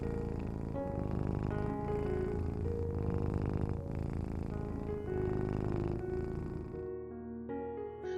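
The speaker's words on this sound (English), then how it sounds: "Their purrs are the first warmth of the day," Cats purring up close, a continuous, even rumbling purr with a steady pulsing rhythm that fades toward the end.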